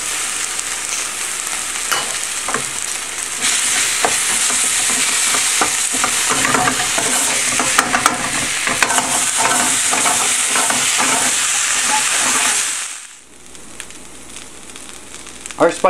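Minced ginger, garlic, Szechuan peppercorns and chili paste frying in a hot pan, a loud, continuous close sizzle with spatula scrapes, suddenly dropping to a quieter hiss near the end.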